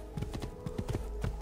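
Horse hooves clip-clopping at a steady trot in Assassin's Creed 2, close, rhythmic, even hoof strikes with no talk over them.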